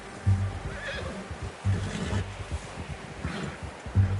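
A horse in Red Dead Redemption snorts and whinnies repeatedly in bursts over a low, steady ambient wash, close and fairly loud.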